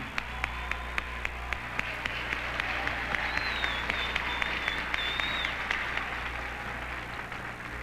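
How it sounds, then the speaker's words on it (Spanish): Audience applause fills a live concert at the 1992 Acapulco festival in Mexico, a dense, steady wash of many hands clapping that stays loud and sustained throughout. "Con nuestro aplauso rubricamos la entrega de esa medalla."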